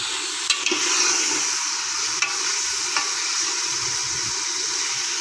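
Mutton and potato curry being fried down in a pan, a soft steady sizzle broken by a few sharp clicks and scrapes of a spoon stirring.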